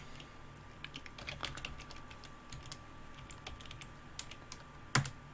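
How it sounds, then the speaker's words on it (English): Computer keyboard typing while a node name is entered during testnet setup, a fairly quiet run of irregular clicks with one sharper key strike near the end. "So you're going to just type that in."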